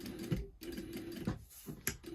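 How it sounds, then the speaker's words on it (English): A home sewing machine runs a hem along the edge of a gathered skirt, giving close, steady mechanical whirring in short bursts with brief pauses between runs. "All I'm going to do is take this to my sewing machine, sew the edge of the skirt from one way to the other"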